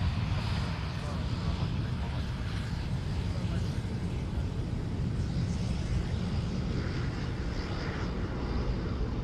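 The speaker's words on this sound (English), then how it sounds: "Very lean departure there, nice and heavy climb." Qantas QF11 airliner climbing away from Sydney Airport on a heavy departure, a steady loud engine roar with deep rumble that holds throughout with no break.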